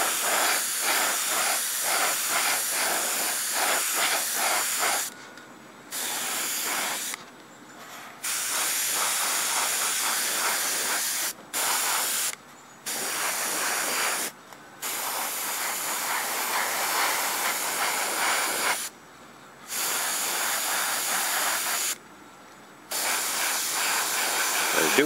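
An airbrush sprays paint onto a model vehicle, a steady loud hiss of compressed air that runs in long stretches and cuts off briefly several times between passes, close up with no talk.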